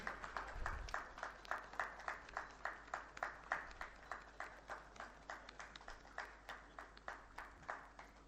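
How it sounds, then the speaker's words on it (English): Faint applause at a stock exchange listing ceremony, with a crowd clapping in a steady, regular rhythm, almost in unison, for several seconds, distant and soft. "A round of applause, please, for the listing certificate."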